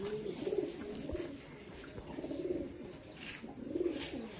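Old-line pigeons cooing in repeated soft, low coos, close by and steady, with no talking.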